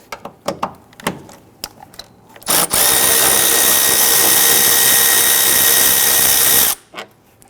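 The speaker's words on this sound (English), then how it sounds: "Just using our 10mm socket and extension to go ahead and get in here." A power tool whirs loudly and steadily for several seconds while a 10mm socket on an extension backs out a bolt holding the coolant reservoir on a 2011-2015 Kia Sorento, with scattered clicks and knocks before and after.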